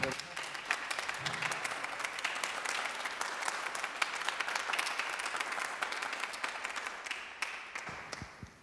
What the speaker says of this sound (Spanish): me gustaría que los que estamos aquí en el escenario le demos un aplauso al público